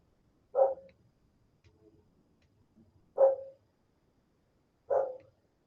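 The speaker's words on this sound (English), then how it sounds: "There's the dog again." A dog barks three times in single, widely spaced woofs, fairly clear and close in an otherwise quiet indoor room during a live watercolor painting session.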